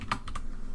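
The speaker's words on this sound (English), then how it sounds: "start typing Omni." Quick keystrokes on a computer keyboard, three or four close taps in a short burst while software is being installed, with no talk.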